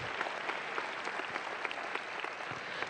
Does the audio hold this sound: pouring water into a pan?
no